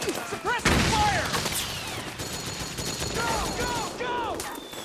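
Rapid battlefield gunfire in Metal Gear Solid 4, dense bursts of automatic shots crackling near and far, with soldiers shouting over the din.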